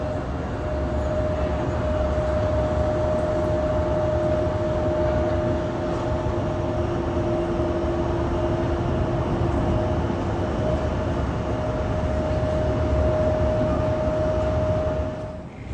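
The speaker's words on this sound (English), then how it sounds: "landed on runway 25 left, is our 787-10" A United Boeing 787-10 airliner, a June 2022 build, rolls out on runway 25 Left at LAX after landing, heard as a loud, steady engine roar and rumble with a constant whining tone, unbroken for about sixteen seconds.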